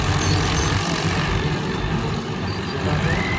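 Tractors driving together in a square-dance routine, a steady, dense engine drone of several machines close by, continuous and loud throughout.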